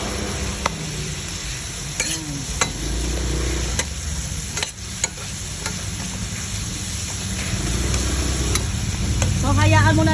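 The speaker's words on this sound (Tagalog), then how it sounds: "hayaan muna natin na masangkot siya ang karne, na mag-brown-brown ang karne" Meat sautés and browns in a pan for ginisang ampalaya, a steady loud sizzle with occasional stirring scrapes and clinks throughout.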